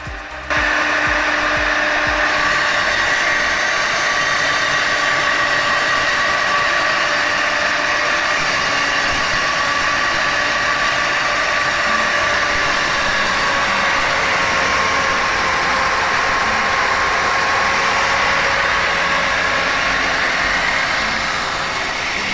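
Core drill cutting a 125 mm thick reinforced concrete slab, a steady high whining drone with a constant motor tone that runs unbroken from start to finish, loud and close, with no talk.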